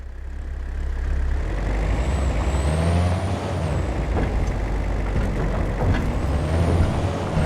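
A heavy truck drives in the hunting game Way of the Hunter, its low engine rumble droning steadily and loud throughout, with faint high whines and hiss riding above it.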